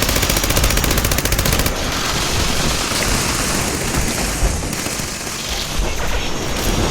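Missiles firing in the video game Fallout 76 produce a dense, loud barrage of rapid crackling blasts and booms, continuous and close, with a slight shift in texture partway through and no talking.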